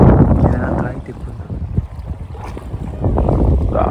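Strong wind buffets a fishing boat out at sea, a loud rumbling roar with gusty microphone noise and low engine and water churn throughout.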